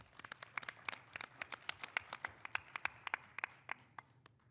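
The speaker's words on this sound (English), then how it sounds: "Let's give Boise Center a round of applause." A small audience claps at a business breakfast event in a convention center, a short burst of scattered, moderately distant hand claps that thins out after about four seconds.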